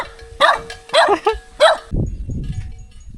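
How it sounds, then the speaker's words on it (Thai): A dog in a rural Thai village near hills and rice fields in a border area barks three times in sharp, evenly spaced bursts, fairly close, followed by low outdoor rumble. "หมามันบ่เคยเห็นมันเห่าพี่น้อง"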